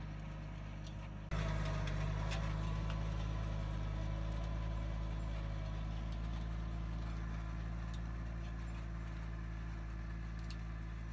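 A mini tractor engine drones steadily and close while plowing a field, a loud continuous low rumble that jumps up in level after the first second and then holds even with no talk.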